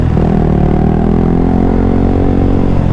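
A Honda CBR 150R motorcycle engine runs loud and close, its steady revving drone holding a rising then settling pitch for about three seconds with no voices.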